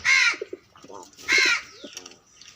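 Pigeons cooing in two loud bursts of bird calls, with softer soft coos and chirps between them, fairly close.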